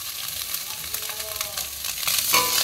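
Fish frying in a little oil in a pan, a steady close sizzle with light crackles and a brief stir or scrape near the end, without talk.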